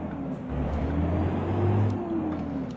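A cold Peterbilt truck engine in the American Truck Simulator game rumbles with a deep, steady drone that rises slightly in pitch and loudness midway, then settles, with no voices.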